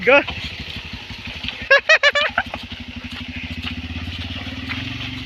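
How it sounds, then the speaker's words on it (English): A motorbike runs on a deep jungle track with a close, rapid engine putter that steadies into an even idle-like throb, and a voice speaks over it early on. "Our motorbike should not stop in this deep jungle."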